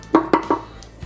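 Three quick, sharp knife strokes slice onions on a cutting board close up in an even rhythm, then a short pause.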